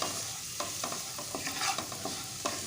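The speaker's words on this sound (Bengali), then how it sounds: "এখন আলুটা আমি একটু লাল করে ভেজে নিচ্ছি" Salted potato pieces fry until browned in a pan with a steady soft sizzle, punctuated by light scraping taps of a spatula stirring.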